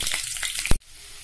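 Cumin seeds and green chillies hit hot oil for matar paneer, giving a close, crackling sizzle with a few sharp pops before the sound cuts off abruptly and a faint background hiss remains.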